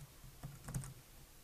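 A few keystrokes tapped on a computer keyboard while writing C++ code, soft scattered clicks clustered near the middle of a quiet, brief stretch.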